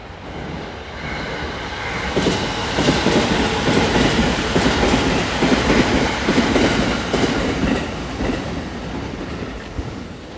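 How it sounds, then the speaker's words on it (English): Kyoto-bound bullet train passing along a railroad, a steady loud rushing roar with faint rhythmic clatter that swells in the middle and eases off over about ten seconds. "There's a good glimpse of the bullet train. Kyoto bound."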